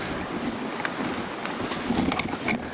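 While hiking outdoors at Freycinet, wind buffets the microphone in a continuous low rumble and rush. Faint scattered clicks and rustles come through underneath, and no one speaks.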